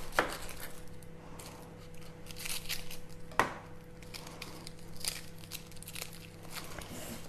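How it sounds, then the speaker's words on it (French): A shallot chopped in a small Supersonic Chopper, with a few sharp clicks and rattling bursts of the blades against a steady low motor-like hum, close and fairly quiet. "Une échalote que je vais hacher avec mon petit Supersonic Chopper Small pour avoir quelque chose de très très fin."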